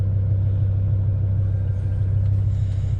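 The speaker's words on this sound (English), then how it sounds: "you can hear it rushing out the exhaust" A BMW E60 M5 with the S85 engine and restrictive mufflers on a test drive, a loud, steady low exhaust rumble and drone from inside the car, unchanging and with no speech.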